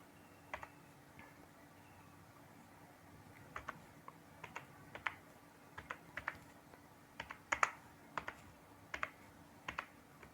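HTML code typed on a computer keyboard in irregular bursts of quiet, crisp key clicks, with short pauses between clusters, close and faint.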